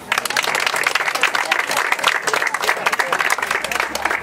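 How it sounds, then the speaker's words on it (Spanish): Loud, sustained applause from a crowd at a street-paving inauguration, honoring the public works director and his team, with dense clapping filling the whole moment without pause. "Un aplauso para usted y a todo su equipo."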